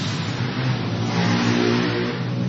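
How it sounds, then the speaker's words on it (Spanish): Motorcycles ridden past from a nearby racetrack, a sustained mid-pitched engine drone rising slightly as they go by, steady and fairly loud with no speech. "Están pasando algunos ciudadanos con sus motos."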